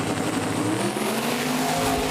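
Small-tire semi trucks launch in a drag race at Roadkill Nights, a loud, sustained engine roar with steady broadband rumble and rising tones throughout, no voices.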